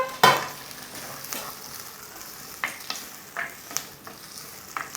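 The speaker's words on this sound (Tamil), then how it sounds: "இதை நல்லா வதங்கட்டோம்ப்பா" Onions sizzling and frying in a pan, with intermittent scrapes and clinks of stirring over a steady crackle.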